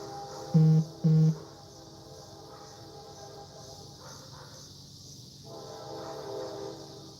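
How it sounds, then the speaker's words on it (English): Two short, loud horn blasts sound up front, then a train rumbles and rattles along steadily, with a swell of clatter near the end. "Old trains are coming."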